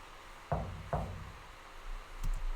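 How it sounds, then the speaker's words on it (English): Two firm knocks on a shut door in the horror game Corpse Party: Blood Drive, evenly spaced and close, followed by a quiet pause and a faint click. "Let's knock."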